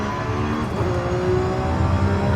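A Lamborghini Revuelto in the Forza Horizon 5 racing game holds a steady, loud engine drone with a rich harmonic whine and no talk over it.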